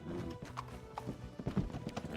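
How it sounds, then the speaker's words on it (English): Several horse hooves clip-clop in a quick, uneven rhythm in a video game, fairly close and modest in volume, with a horse snorting faintly. "this horse is going to kick me"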